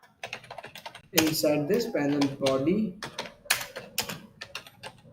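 Computer keyboard keys clatter in quick bursts of close, crisp clicks, partly under someone speaking.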